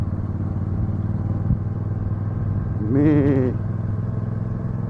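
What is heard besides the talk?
Royal Enfield Super Meteor 650 motorcycle with Zard exhausts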